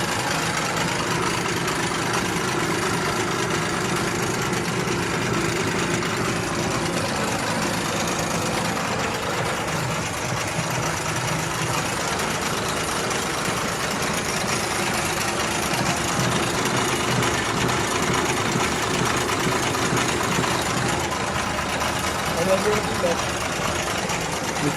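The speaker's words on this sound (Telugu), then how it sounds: "ఇంజన్ రన్నింగ్లోనే ఉండాలి." A 14-tyre lorry's 12-litre diesel engine idles steadily throughout, a continuous low rumble with voices talking over it at times.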